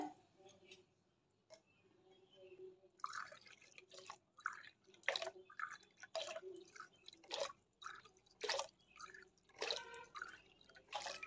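Water for a raw mango papad mixture is poured in measured cupfuls, giving faint, intermittent splashes and trickles. A person talks quietly over the pouring.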